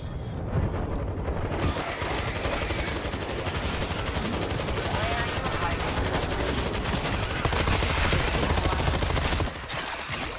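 Auto turrets firing in the World War Z video game, a sustained loud rattle of rapid automatic fire that runs almost without a break amid dense combat noise.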